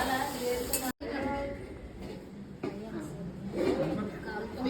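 Spices for a brinjal and tomato chutney tempering sizzle and crackle steadily in a hot pan, a brief metallic clink near the start, with kitchen clatter and faint voices in the background.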